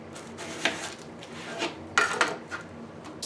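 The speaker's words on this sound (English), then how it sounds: "And chop the onion, you know." An onion being chopped with a knife in a home kitchen, heard as a few sharp, separate knocks of the blade on the board, close and fairly quiet over a low steady background hum.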